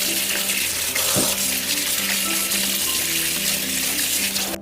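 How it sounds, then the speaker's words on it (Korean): Tap water runs steadily over cabbage being rinsed in a sink, a continuous close rushing splash with a brief knock partway through and the flow cutting off at the end. "흐르는 물에서 깨끗하게 씻어주세요"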